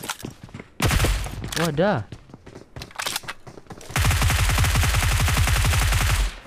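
Rapid automatic gunfire in the mobile battle royale game PUBG Mobile, loud sustained bursts of closely spaced shots, with excited voices talking over and between the volleys.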